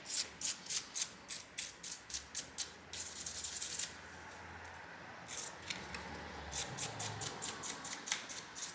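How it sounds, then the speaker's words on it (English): A stiff brush scrubs grime off a cooled-down part in quick, rhythmic close strokes, loud and scratchy. A brief steadier rubbing passage comes midway before the strokes resume. No one speaks. "Now that this is cooled down, I will give it a quick brush."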